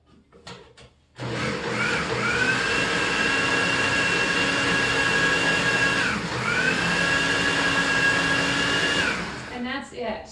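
Food processor whirring through a batch of hummus, a loud steady motor drone running for about eight seconds with a brief dip midway, starting abruptly after a short quiet moment and winding down at the end.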